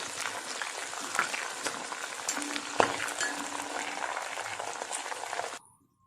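Garlic, bird's eye chilies and dried chilies frying in hot oil while being stirred, a steady close sizzle with scattered crackles and a metal clink from the spoon, cutting off abruptly near the end.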